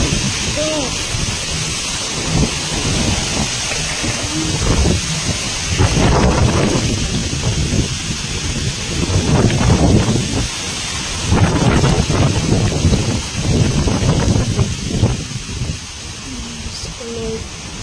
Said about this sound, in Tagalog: biglang lumakas ang ulan at hangin